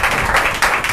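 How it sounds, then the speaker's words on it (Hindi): Hands clapping at a Thursday healing church service, a steady run of loud, close claps with no pause. "मैं ताली बजाएंगे"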